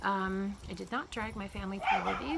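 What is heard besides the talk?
dachshund barking at squirrels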